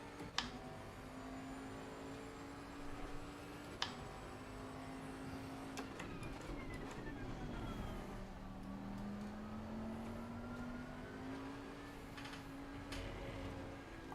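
Racing car engines in a 24-hour IndyCar video game, a faint steady whine rising and falling with gear changes, with occasional sharp clicks over a constant low background.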